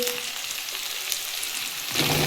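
Ridge gourd pieces fry in hot oil in a simple Bengali home kitchen, giving a steady hissing sizzle that thickens into a louder crackle near the end.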